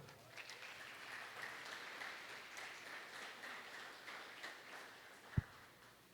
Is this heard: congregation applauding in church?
yes